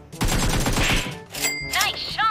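Gunfire in PUBG Mobile, several quick sharp shots cracking in a short burst with clipped mechanical clicks and ringing tones from the game, loud and close, with no talk over it.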